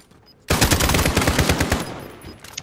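A custom AK in the video game Warzone fires a rapid burst of automatic gunfire, loud and close, lasting about a second and a half before tailing off.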